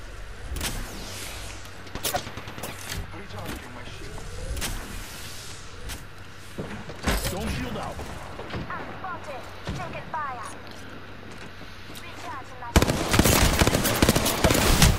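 Gunfire in the video game Apex Legends comes as scattered sharp shots and short bursts over a steady game background, ending in a dense, loud burst of rapid fire. Players talk over parts of it.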